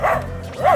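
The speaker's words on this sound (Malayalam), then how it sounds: "അയ്യോ പട്ടി." A dog barks twice in quick succession, sharp and fairly close, with a short pause between barks in an indoor scene from a short film.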